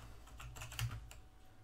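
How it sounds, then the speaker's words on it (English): Quick keystrokes on a computer keyboard, a short burst of faint, soft clicks in an irregular rhythm. "there's me typing away at nothing"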